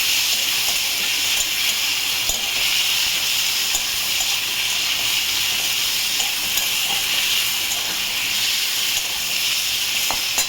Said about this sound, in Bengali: টমেটোটা ভালো করে ভাজবো